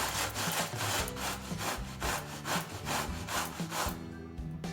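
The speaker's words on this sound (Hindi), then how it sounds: "मैंने लौकी को छीलकर अच्छे से धो लिया है। अब हम इसे घिसेंगे।" A peeled bottle gourd (lauki) rubbed over a grater in steady rhythmic strokes, a close, raspy scraping repeated about twice per second.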